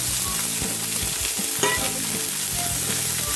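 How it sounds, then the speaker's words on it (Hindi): Cauliflower and potato pieces frying in hot oil for a Rohu fish curry, a loud, continuous close sizzle with stirring clatter from the pan and no voices. "अब हम जो वेजिटेबल लिया है ये हम फ्राई करके ले लेते हैं तेल में"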